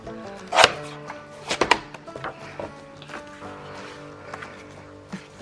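A paper trimmer slices scrapbook paper with two sharp, close cutting snaps early on, followed by softer clicks and shuffling sounds.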